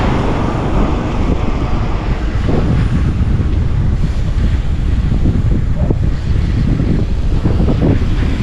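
Strong wind buffets the microphone in a continuous loud roar during a morning bike ride in Carmen Planas, Buraotan, with no other clear sounds over it.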